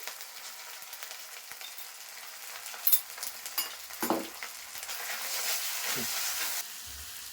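Ground cumin hitting a pan of frying vegetable curry, with a soft sizzle and stirring scrapes rising and falling close by.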